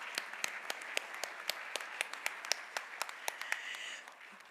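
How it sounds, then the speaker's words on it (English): Scattered applause from a conference audience greeting the panelists after an education and global politics session, individual claps distinct and fairly sparse, moderately faint and tapering off toward the end. "please join me and give a big round of applause to our panelists"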